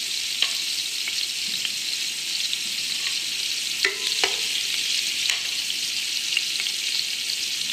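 Onions sizzle and crackle steadily in hot oil over a high flame, with scattered sharp clicks and scrapes of stirring throughout, close and fairly loud.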